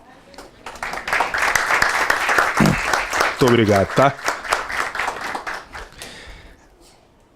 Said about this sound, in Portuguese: eu não me lembro de nós termos batido palmas para ela